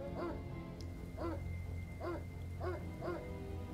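Dog in the Red Alert Remastered video game gives five evenly spaced bow-wow barks with a whimpery edge, loud and close over a steady low game hum.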